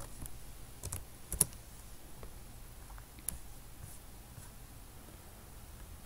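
Keys on a computer keyboard are tapped sparsely, with a handful of soft, separate clicks and one or two sharper strikes against quiet room noise.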